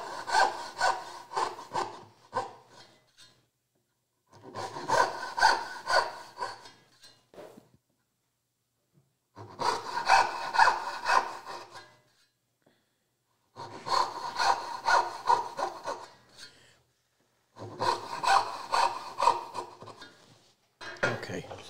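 A backsaw rips through wood while roughing out a dovetail, in five bursts of steady rasping strokes separated by short pauses, close and clear with no talking.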